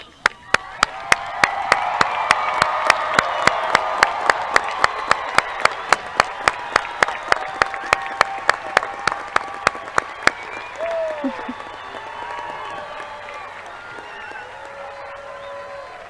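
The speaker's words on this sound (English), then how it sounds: "Please, let's stand and give the graduates a round of applause." A high school graduation crowd in 2023 gives the graduates a long round of loud applause with a steady, rhythmic clapping beat. The applause fades out after about ten seconds, and scattered voices and murmur follow.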